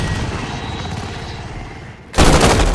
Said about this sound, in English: So here I am playing with the AN94 assault rifle.